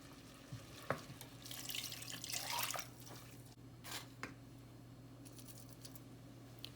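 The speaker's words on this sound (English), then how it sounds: "Add in the water from the cooking of the shrimp" Shrimp cooking water is poured into a pan of shrimp for fritters, giving a brief splashing pour with drips and a soft sizzle, quiet and close.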